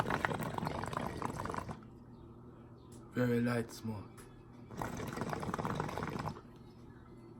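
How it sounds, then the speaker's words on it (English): Water bubbles in a chalice water pipe in a brief gurgling burst between stretches of close, quiet talk. "You hear the water bubbling."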